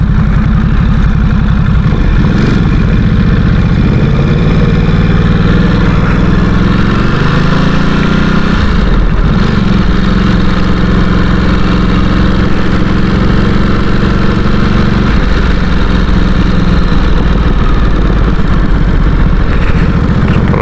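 A Ducati Supersport S motorcycle engine drones steadily at cruising speed on a motorway, a loud continuous mid-low hum with slight pitch shifts and constant wind roar throughout.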